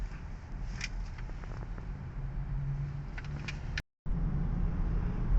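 An MG4 electric car driving and accelerating on a road, heard from inside as a steady low rumble of tyres and road noise with faint motor hum, broken by a brief dropout near the end.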